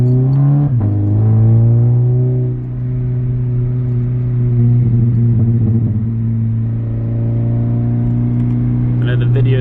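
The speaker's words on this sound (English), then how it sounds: "I'm on my first test drive with the suspension raised up a little bit and the spacers on" A Subaru BRZ or Toyota 86 on Tein Street Basis Z coilovers and wheel spacers drives on a test run, its engine a steady close drone that dips briefly then carries on, with no speech over it.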